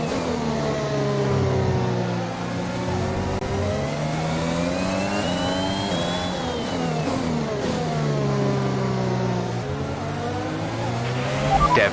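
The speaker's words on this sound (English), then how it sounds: "Leclerc has a DRS, so he's going to overtake Butler in turn 12" Formula 1 race cars in the F1 2021 video game scream at high revs, with the engine note rising and falling through gear changes and a passing whine. The sound is loud and continuous, with a short squeal near the end.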